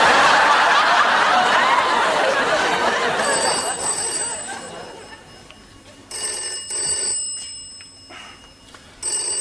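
An old landline telephone bell rings at 2 a.m. in a 1981 British sitcom scene, sounding in repeated loud bursts after a stretch of voices and laughter.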